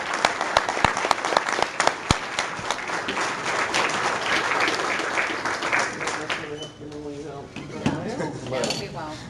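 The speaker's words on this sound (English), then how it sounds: "give them a round of applause" At a Board of Education meeting, a room applauds the school band directors with sharp close claps that build into sustained clapping, then taper off as a voice begins talking.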